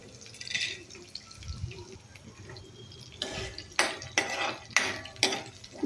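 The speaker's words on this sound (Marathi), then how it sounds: "आता शेंगदाणे घालूयात तेलामध्ये." Peanuts tumble into hot oil in a pan, a series of sharp scattered clinks and rattles followed by soft sizzling, close and fairly quiet.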